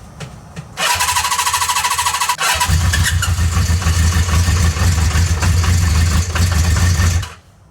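A small engine in a garage cranks briefly, then catches after the fuel is turned on and runs loudly with a steady rapid chug before shutting off at the end; no talk.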